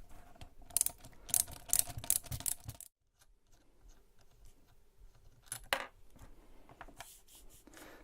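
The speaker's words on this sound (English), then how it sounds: "Just going to remove these pre-fitted prop nuts." Small metallic clicks and ratcheting ticks, close and fairly quiet, come in bursts as pre-fitted prop nuts are removed from the motors of an Eachine Wizard X220 quadcopter, with a short silent gap partway through.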